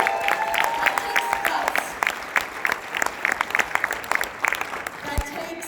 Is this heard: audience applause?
yes